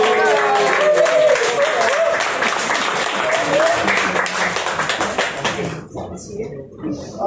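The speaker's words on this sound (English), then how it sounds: "Massive round of applause" An audience at a live stand-up comedy night in a small studio venue applauds and cheers, loud dense clapping that holds for several seconds before fading out toward the end.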